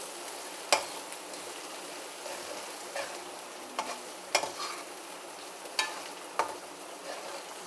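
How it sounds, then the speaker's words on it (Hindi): Spices are stirred into vegetable pulao frying in a pot, a soft steady sizzle with intermittent scraping taps of the spoon against the pan, close and fairly quiet. "अब मैं इसमें ये डालूँगी मसाले, सारे ही मसाले एक साथ डाल देती हूँ।"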